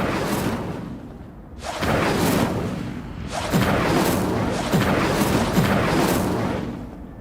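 Repeated fiery spell casts in Hogwarts Legacy, each a loud whooshing burst with a booming crackle, several coming in quick succession over a few seconds with no talk.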